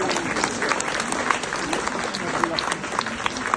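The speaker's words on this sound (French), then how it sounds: "Ne m'applaudissez pas." Audience applause in a hall at the opening of a Brancusi retrospective at the Centre Pompidou, a steady dense clatter of many hands throughout, with voices murmuring underneath.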